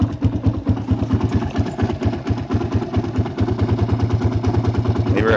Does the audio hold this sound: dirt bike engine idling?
yes